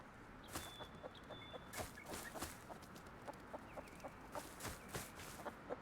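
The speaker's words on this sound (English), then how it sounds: "Chickens." Chickens cluck softly and repeatedly in the video game Rust, with faint tapping sounds scattered throughout.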